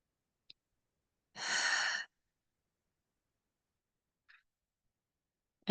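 A single long exhale, a soft breathy sigh lasting under a second, stands out in an otherwise quiet room as a group takes a few breaths together, with only faint small clicks before and after.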